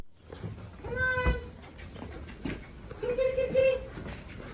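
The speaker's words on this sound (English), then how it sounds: "I hear meowing." A house cat meows a few times outdoors near parked cars, short tonal calls rising over background noise while people call out to it nearby.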